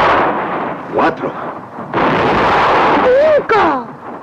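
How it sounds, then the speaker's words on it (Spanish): A ship's cannon fires a signal shot, a loud broad boom that rolls on for over a second after sharp bursts, with short shouted voices around it. "Siete cañonazos era la señal convenida de su buen éxito."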